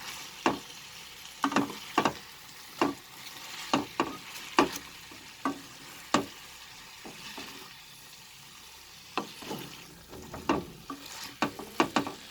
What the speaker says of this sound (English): I will mix it. Please reduce the flame before doing so, or else the masalas will get burnt.